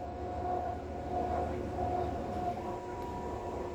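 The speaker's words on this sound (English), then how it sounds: "this is what it's like sitting backwards on the train on the class 185 DMU Transpennine" Inside a moving Class 185 DMU TransPennine Express train, a steady low rumble from the diesel engine blends with a continuous wheel and track drone and a faint whine.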